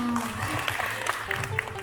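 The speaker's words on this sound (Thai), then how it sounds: "ขอเสียงปรบมือให้อาจารย์ด้วยค่ะ" Short burst of clapping for a teacher at a school event, moderately loud and mixed with faint voices and room noise, ending quickly.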